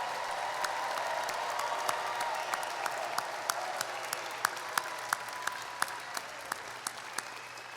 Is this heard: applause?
yes